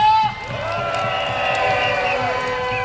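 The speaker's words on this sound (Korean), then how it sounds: "큰 박수 다시 보내주십시오" A large outdoor crowd at a candlelight protest rally in Seoul cheers and claps, a steady near roar of voices and whoops lasting throughout with scattered applause mixed in.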